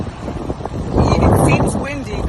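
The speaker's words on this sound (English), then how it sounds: "It seems windy because it is." Wind blowing outdoors buffets the microphone in low, rumbling gusts that swell midway, with people talking over it.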